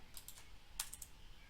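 Quick keystrokes on a computer keyboard, a short burst of soft clicks, a pause, then a second cluster of taps, close and quiet with no talking.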